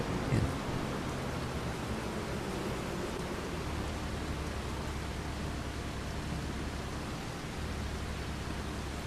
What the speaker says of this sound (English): This is genuine BC rain